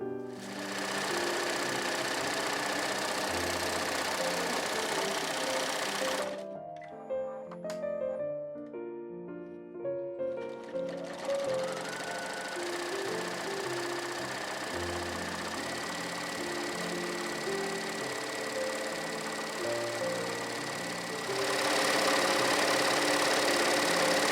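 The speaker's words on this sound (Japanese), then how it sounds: "それではちょっと別の生地で試し縫いをしてみます。" A sewing machine test-stitches a piece of fabric while a scarf-style neck cooler is being made, whirring in rapid, steady bursts near the mic. It pauses briefly in the middle for a few clicks and adjustments, then runs again.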